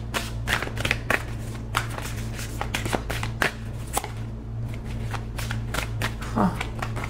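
Tarot cards being shuffled by hand, a run of crisp riffling flicks and soft slaps in irregular bursts, close and fairly clear over a steady low hum, with no talking.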